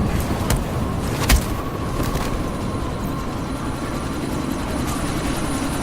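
A helicopter in the video game Deus Ex: Mankind Divided gives a steady, close rotor drone that fills the whole clip, with a few short sharp bangs near the start and no one talking.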